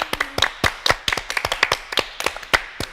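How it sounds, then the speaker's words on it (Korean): Sharp, irregular hand claps from a few people in a small studio, about a dozen bright close smacks spread over three seconds with no talking. "박수 한번 할까요?"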